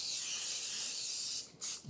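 Cooking spray hisses onto a baking pan in one long, steady burst that fills most of the moment, then cuts off and is followed by two short, close spritzes.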